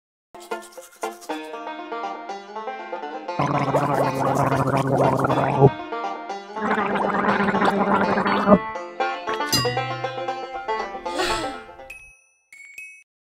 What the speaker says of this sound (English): When you gargle, you rinse your mouth and throat and then spit.